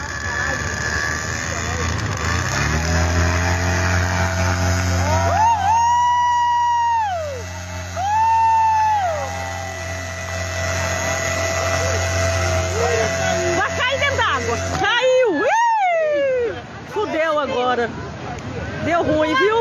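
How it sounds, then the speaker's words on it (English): A tandem foot-launched paramotor engine drones steadily on a beach, its pitch climbing and dipping with throttle changes through the launch, while people talk over it and shout near the end. "we have a tandem foot launch paramotor launching on the beach"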